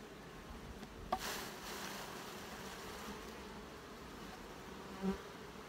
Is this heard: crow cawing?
no